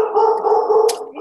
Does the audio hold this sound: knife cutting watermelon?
no